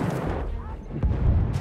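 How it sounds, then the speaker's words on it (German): A grenade detonates in the World War I shooter Battlefield 1: a heavy, deep boom lands about a second in over a constant rumble of battlefield noise, with game voices and clamour mixed in. "Ich werfe eine Granate."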